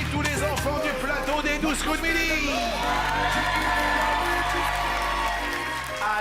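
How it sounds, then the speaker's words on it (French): A studio audience cheers, whoops and applauds for children on the set of the TV game show Les 12 coups de midi. The loud crowd noise with children's shouts carries steadily throughout. "On applaudit tous les enfants du plateau des 12 coups de midi."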